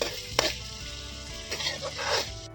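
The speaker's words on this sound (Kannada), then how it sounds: "ಬಟರಲ್ಲಿ ನೀಟಾಗಿ ಈ ಥರ ಫ್ರೈ ಮಾಡ್ಕೋಬೇಕು." Paneer frying in butter in a home kitchen pan, a steady soft sizzle with a few sharp clinks and scrapes of a spatula against the pan, close and alone.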